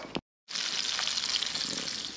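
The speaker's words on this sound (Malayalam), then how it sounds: "അപ്പോൾ എന്തേ മീനും കൂടി വറുക്കാൻ പോകണം." Fish fries in a pan: a brief knock and a moment of quiet, then a steady, close, hissing sizzle that holds evenly to the end.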